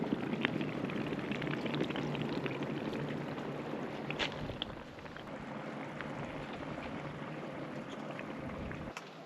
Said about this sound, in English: So I can hear it bubbling away.